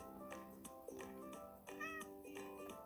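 Several cats meowing in a video game, overlapping high, tonal mews in quick succession, fairly quiet and close with no talking.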